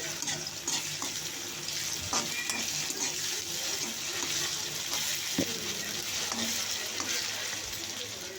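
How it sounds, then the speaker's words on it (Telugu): Ginger garlic paste fries in a pan with chicken pieces while being stirred, producing a soft, steady sizzle with occasional scraping knocks of the spoon against the pan, fairly quiet throughout. "అల్లం వెల్లుల్లి పేస్ట్ వేసుకోవాలి, అది కూడా వేసుకొని బాగా కలుపుకోవాలి"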